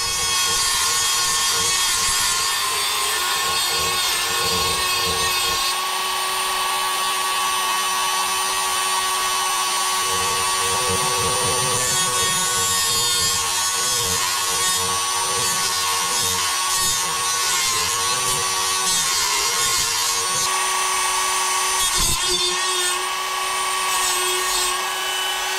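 A tool cuts through the throttle shaft of a Holley Weber 32/36 carburetor, producing a loud, continuous, high-pitched grinding whine that runs without break for about 25 seconds, close up and with no speech.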